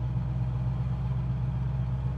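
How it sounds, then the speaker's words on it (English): A 1968 Ford Mustang GT with Sprint Package idles with a steady, low engine rumble continuously at close range, with no voices. "I just love the sound of the engine."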